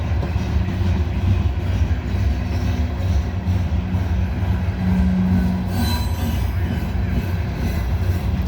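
A heavy CSX coal train hauled by two locomotives rolls past, a loud continuous rumble of railcars with a brief high wheel squeal midway, close and sustained with no talking.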